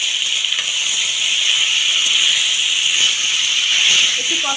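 Spice paste with a rui fish head frying in a pan, a steady loud sizzle and hiss running throughout without a break.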